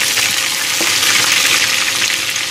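Curry leaves and green chillies frying in hot oil for chicken 65 make a loud, dense, continuous hiss close up, steady throughout with no voices over it.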